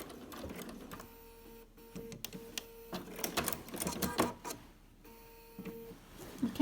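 A sewing machine runs in short bursts while stitching binding along a quilt edge, with pauses where the quilt is pivoted. The motor whirs and the needle taps moderately close, and there are occasional handling noises.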